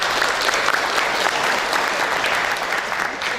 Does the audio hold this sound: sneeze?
no